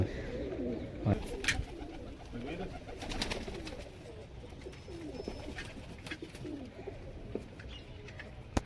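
Pigeons being readied for flying coo repeatedly at close range, their low throaty calls rolling on steadily over a faint background hum with a few sharp clicks.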